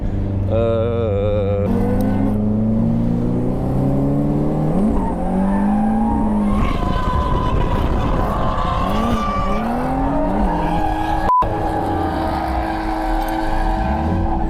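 BMW E46 cars on a race track, with a loud engine droning and climbing through gear changes alongside tire squeal as they push through a lap, heard close and constant with no talk.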